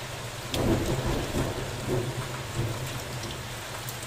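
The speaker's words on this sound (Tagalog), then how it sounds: "Kumukulog-kulog pa." Thunder rolling low and heavy through a steady downpour of rain outside a home, with the rumble swelling and fading over several seconds beneath constant hissing raindrops.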